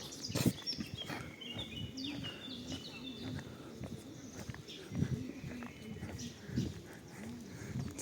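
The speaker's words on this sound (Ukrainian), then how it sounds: "Тиша і спів птахів." Birds sing and chirp in a quiet town centre in Truskavets near a palace-style museum building, high bright calls scattered throughout, while footsteps and a voice talk nearby.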